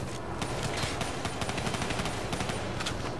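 Continuous rapid gunfire from Call of Duty: Black Ops III, dense bursts of shots layered over a loud, busy battle soundscape with no talk.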